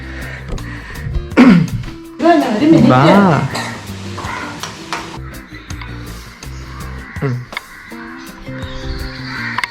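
Birds in a cage-like aviary call out loudly and close by, with harsh, rising squawks bunched in the first few seconds, then scattered sharper chirps and clicks continuing at lower volume.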